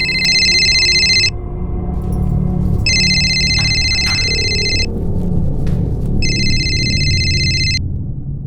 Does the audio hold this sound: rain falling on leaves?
no